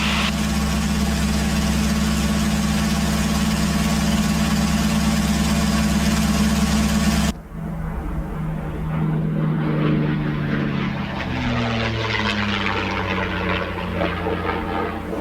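P-51 Mustang warbird's piston propeller engine, a loud steady drone that cuts abruptly halfway to a lower, shifting roar with pitch slides as the aircraft passes or changes power; no talk.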